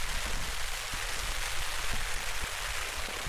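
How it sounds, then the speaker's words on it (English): Steady rain patters densely on a tent close by in the Peak District, a constant hiss with occasional louder drops and no voices. "When it's raining like this,"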